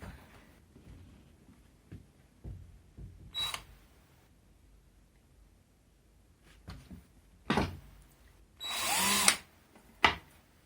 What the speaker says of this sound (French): je prends ma petite perceuse avec ma petite mèche et je viens percer mes petits trous